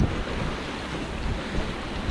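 Gulf of Mexico waves washing steadily onto the shore, a constant broad rush with wind buffeting the microphone, no voices.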